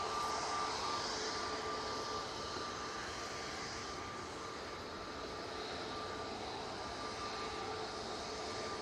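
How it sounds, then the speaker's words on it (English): A Jet2 Airbus A321neo on the runway for departure gives a steady, distant jet engine roar with a faint whine on top, constant throughout and without speech. "there's the other Jet2 A321neo in the .com livery. Now coming on to 23 left for its departure to Faro."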